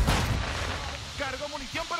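A grenade goes off in a military shooter game, a heavy low boom at the start that rolls into rumble and decays. Brief electronic beeping tones follow.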